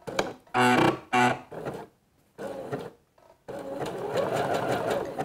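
A sewing machine stitches the lining of a swimsuit in short, loud mechanical bursts separated by brief pauses, ending in a longer continuous run.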